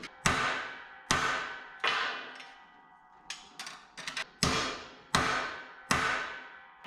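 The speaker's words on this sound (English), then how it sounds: "once you hear it kind of thud hard" Hard, hollow thuds from a speedball-style part being dunked into place while upgrading a cheap Harbor Freight welding cart: about nine sharp, close impacts, each ringing briefly. Most are evenly spaced, with a quick cluster of lighter knocks midway. No talking.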